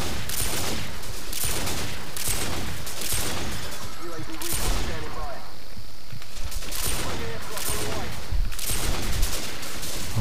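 Call of Duty 4 gunfire from a Domination match on the map Vacant crackles in repeated loud bursts and single shots throughout, close and dense, with a voice talking underneath at times.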